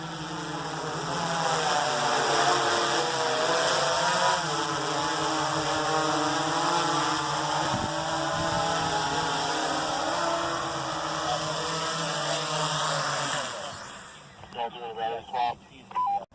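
A DJI Inspire drone flies back and lands, its steady whining rotor drone carrying for about fourteen seconds before cutting off, with voices talking over it throughout.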